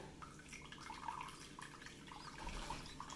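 Warm water is poured while a Vietnamese noodle bowl with rice paper wraps is being made, a faint, steady trickle with small splashes and drips that come and go in the background.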